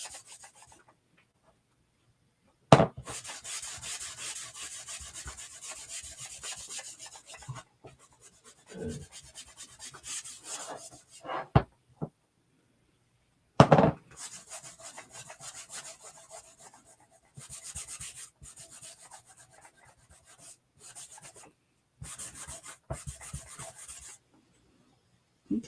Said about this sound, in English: I'm just going to get a little bit of wax onto my rag. And I'm just going to gently rub.